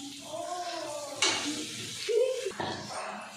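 Food with turmeric powder being stirred in a frying pan, with soft sizzling, scraping strokes and light utensil clinks close by, and a brief high voice in between.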